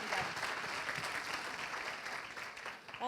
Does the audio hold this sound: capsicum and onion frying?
no